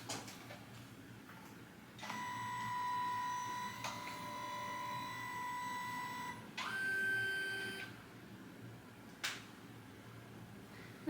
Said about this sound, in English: the firmware update is complete, please restart the printer